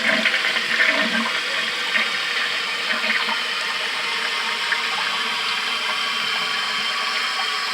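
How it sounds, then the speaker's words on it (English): A household toilet flushes after a flapper repair: a loud rushing surge of water that settles into a steady hiss and trickle of the tank refilling, close by with no talking. "I did the trick. Let's find out."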